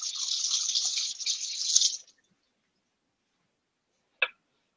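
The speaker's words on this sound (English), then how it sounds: "let me rinse my knife of some green onion" A kitchen knife rinsed under a running tap, a steady close hiss of water for about two seconds that stops, followed by a single sharp tap later.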